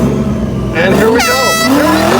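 An orange Chevrolet Chevelle revs hard during a burnout at a car show, its loud engine note sweeping up and down over crowd noise and voices.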